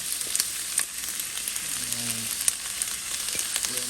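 Chopped leek sizzles steadily in a hot pan as a seafood bisque gets started, a close, continuous hiss of frying with a few light clicks of stirring and no talk.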